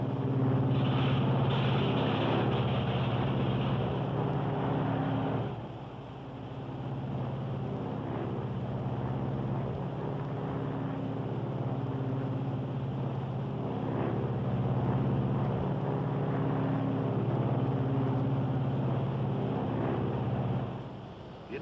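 A Lockheed Super Constellation airliner engine is unfeathered and started, giving a loud, continuous propeller-engine drone whose tone shifts partway through before settling into a steady roar.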